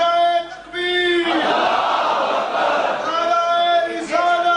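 A large crowd at a religious gathering roars back in unison to a slogan, a loud, sustained massed shout that swells and holds for a few seconds between stretches of amplified chanting.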